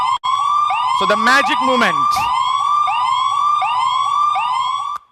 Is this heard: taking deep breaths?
no